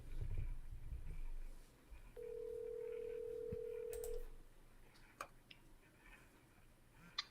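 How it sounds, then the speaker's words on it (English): Phone call being placed: a single steady ringback-like tone holds for about two seconds, then a few faint clicks follow in a quiet room. "Let me see if homie answer the phone real quick."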